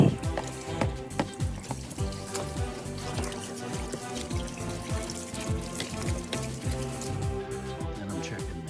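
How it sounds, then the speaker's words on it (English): Running water rinses a car battery tray, a steady close splashing stream with repeated sharp drip and spatter impacts throughout. "This tray out, rinse it off good."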